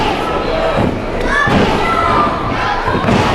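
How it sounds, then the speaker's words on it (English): Pro wrestling body slam in the middle of the ring at an ETWA event, a single heavy thud landing amid steady crowd noise and commentary. "scoops him up. Big old slam right in the middle."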